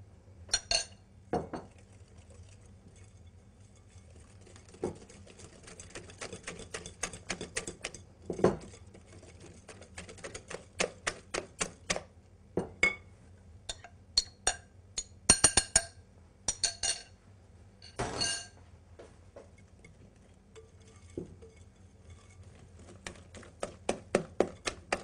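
Madeleine batter ingredients being mixed in a bowl, with a whisk or spoon clinking sharply against the sides in irregular bursts and quieter scraping between, close by with no voices.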